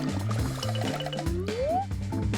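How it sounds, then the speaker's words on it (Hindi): Colour pencils are dipped into water, giving a soft liquid gurgle with a rising filling tone, quiet beneath background music. "इन्हें पानी में डिप करती हूँ जब तक ये गीले ना हो।"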